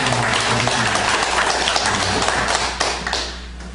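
Dense congregation applause at a church service fills the room, a steady wash of many hands clapping at once, tapering slightly near the end.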